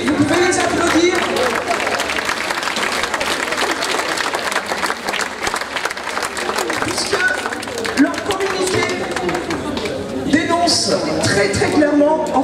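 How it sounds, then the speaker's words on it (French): A protest crowd in Privas applauds steadily at a rally, with dense, continuous clapping and cheering filling the whole stretch, loud and close, with some voices mixed into the noise. "Oui, vous pouvez les applaudir."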